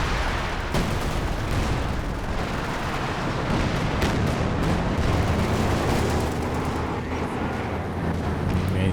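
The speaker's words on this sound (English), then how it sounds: "Yeah, 3 cluster bombs coming in." Cluster bombs exploding in the Company of Heroes 2 video game: a dense, continuous barrage of loud blasts, crackling gunfire and rumbling booms without a lull, close and chaotic throughout.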